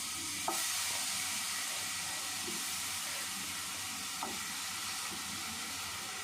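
Eggplant sizzles on a hot tawa, a steady loud hiss of frying that carries on throughout, with a couple of faint clicks from stirring or turning.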